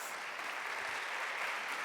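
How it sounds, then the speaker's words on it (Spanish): Audience applause greets a speaker at an e-commerce content talk, a steady, even wash of clapping from a crowd that holds at moderate loudness throughout. "Muy bien, un aplauso. un aplauso para él."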